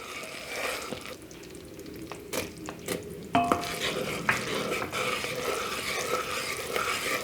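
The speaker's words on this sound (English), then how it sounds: "while gently stirring, we're going to add in our 2 tablespoons of butter and our vanilla" Honey caramel being stirred in a hot pan as butter and vanilla go in, with soft scraping strokes and a steady low sizzle, plus a couple of sharper utensil clinks against the pot.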